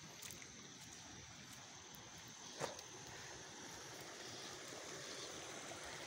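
Water rushing steadily through a swollen mountain stream in flood, a continuous broadband roar that stays even throughout with one brief sharp tap near the middle.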